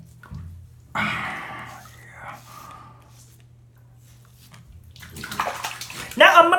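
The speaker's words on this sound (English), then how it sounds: "Now I'm gonna put the blade in the water and rinse out those bad little old whiskers." A shaving razor blade is swished and rinsed in bathtub water, with splashing and sloshing that swells toward the end while a person talks quietly nearby.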